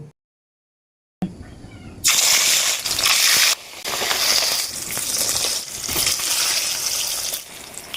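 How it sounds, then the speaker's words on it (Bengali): Six pieces of katla fish rubbed with salt and turmeric are fried in oil. After a moment of silence, a loud, dense, crackling sizzle starts and continues, rising and dipping slightly, with no talk. "মাছগুলো এবার আমি নুন হলুদ মাখিয়ে নিয়েছি এবার ভেজে নেব"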